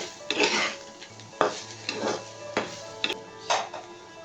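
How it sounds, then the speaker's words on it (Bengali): Food frying in oil in a home kitchen pan, stirred with a utensil, gives a low sizzle under repeated bursts of scraping and clinking against the pan at an irregular pace, close and fairly loud. "একদম তেলের উপর ভাজা ভাজা করে নামিয়ে ফেলব।"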